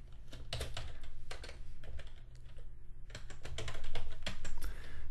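Computer keyboard keys clatter as someone types HTML checkbox code, quick uneven bursts of close, crisp keystrokes with brief pauses between runs.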